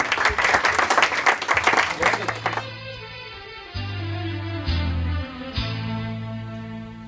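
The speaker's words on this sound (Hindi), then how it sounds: "आपकी भरपूर तालियां" Audience applause at a book launch event bursts out briefly and loudly, then fades as sustained musical tones from a stage performance begin.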